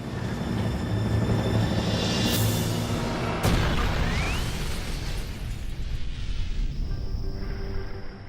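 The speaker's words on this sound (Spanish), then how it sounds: "El convoy escapa por poco de la explosión de la bomba Lewis" A loud, sharp blast from a Lewis bomb near a World War II convoy bursts out over a dense, rumbling background, followed by lingering roar and debris-like noise.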